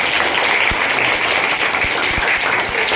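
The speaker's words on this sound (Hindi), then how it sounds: "तालियां बजती रहें" Sustained audience clapping at a girls' school nutrition-campaign event, a steady dense wash of applause with a handful of louder individual claps popping through.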